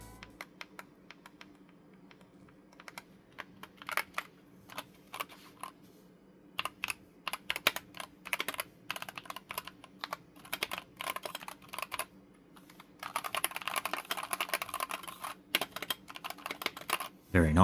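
Typing on a Wooting mechanical keyboard, a steady patter of quick close keystrokes that turns into denser, louder bursts toward the end, with no talking over it.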